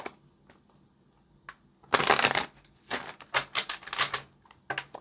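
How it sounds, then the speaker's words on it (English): Tarot cards are shuffled by hand in quick, papery riffling bursts, close and fairly quiet, with short pauses between them. "Let's get one more shuffle for Aries."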